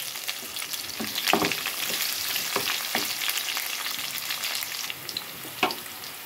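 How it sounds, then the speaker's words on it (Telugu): Chopped onion pieces frying in oil after tempering spices, a steady close sizzle and crackle with occasional louder spatters and stirring clicks, no voices. "తాలింపులు వేసిన తర్వాత ఉల్లిపాయ ముక్కలు కూడా వేసేసుకున్నాను."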